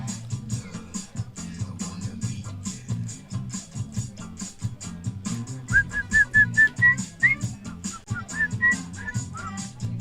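At a youth baseball ballpark, someone whistles a short tune as a run of bright, quick notes. It rises over a steady rhythmic beat of background music, with a second brief phrase following.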